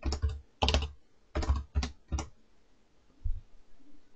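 Bursts of typing on a computer keyboard while entering text into an Access database form, several quick clusters of close, crisp key clicks separated by short pauses, ending with a lone tap.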